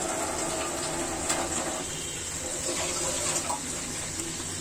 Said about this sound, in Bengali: দেখুন এটা দিয়ে আর একটু ঝোল দিয়ে দিলাম